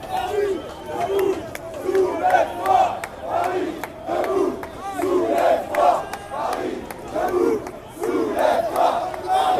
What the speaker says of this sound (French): là il commence à y avoir un mouvement de foule